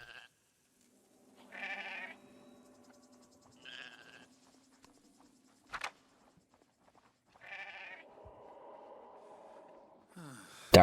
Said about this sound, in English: A flock of curious and very sociable sheep.